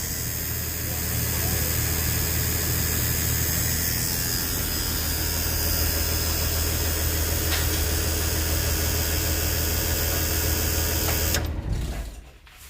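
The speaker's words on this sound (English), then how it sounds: "I know y'all been wanting to hear that engine" The engine of a school bus converted to a camper runs steadily, close up and loud with a constant droning hum, then cuts out at the very end.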